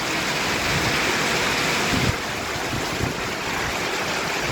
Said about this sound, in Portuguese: Chuva forte de pedra aqui em Osasco, hein?